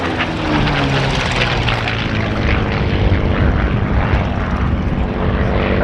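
A North American P-51 Mustang, one of the Cavalier Mustangs flown by the Salvadoran air force, passes at an airshow. Its propeller engine drones loud and steady throughout with a rough, throbbing roar and no talk over it.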